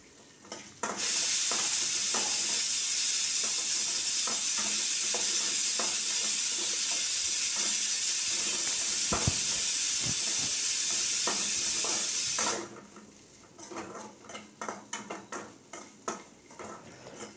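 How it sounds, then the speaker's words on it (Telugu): Curry leaves hit hot oil in a pan with a loud, steady sizzle and spatter that runs for about twelve seconds while a utensil scrapes and stirs. The frying then drops to a quieter crackle with scattered clinks. "బాగా వేగనిస్తాను."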